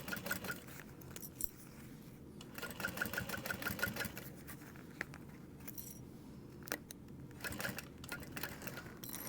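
A sewing machine runs in steady stitching bursts, basting fabric for a Dreamer Pack mini backpack, with short pauses between runs and light clicks and handling noises throughout.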